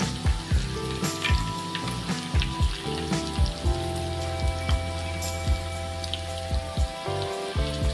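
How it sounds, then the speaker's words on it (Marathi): Pomfret fish pieces frying in a pan, a loud continuous crackling sizzle dotted with sharp popping spatters and occasional clinks, heard up close without speech. "आता आपल्याला त्याच्यामध्ये तुकडे टाकायचे फ्राय करण्यासाठी"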